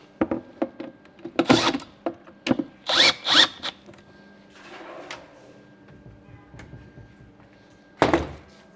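A power drill drives screws while a furniture drawer front is mounted, with short whirring bursts and a couple of longer runs, separated by clicks and knocks of the workpiece, close and fairly loud.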